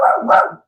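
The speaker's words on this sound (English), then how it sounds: "That's my dog." A dog gives a single short, loud bark up close, lasting under a second and ending abruptly.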